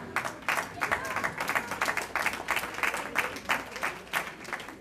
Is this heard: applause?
yes